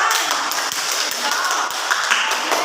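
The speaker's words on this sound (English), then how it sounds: "Give applause, everyone." Classroom applause from students during a micro teaching lesson, a dense, steady patter of many hands clapping close by, sustained evenly throughout with no voices.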